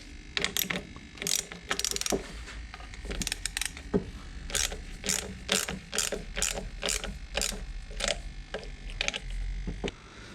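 A ratchet tightens bolts on the plastic housing of a Dodge Ram air suspension compressor, in repeated bursts of close, crisp clicking separated by short pauses, with no speech.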